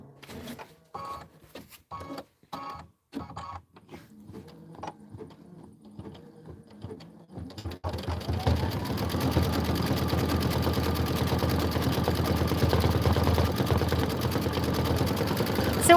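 An embroidery sewing machine stitches a bench pillow design, first in sparse, halting bursts, then in a steady, dense mechanical whir of rapid needle strokes that fills the second half.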